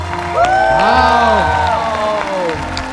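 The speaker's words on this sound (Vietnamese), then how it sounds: "Một tràng pháo tay cho cặp đôi chúng ta ạ" Audience applause and cheering for a couple on a Vietnamese reality show stage, a loud continuous wash beneath bright sustained music tones, with voices talking over it.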